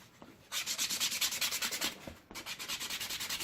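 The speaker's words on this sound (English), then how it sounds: "You have to get your sandpaper" Sandpaper rubs the edges of homemade palm slippers in quick, even back-and-forth strokes, a steady rhythmic scratching that pauses briefly and then resumes, close and alone.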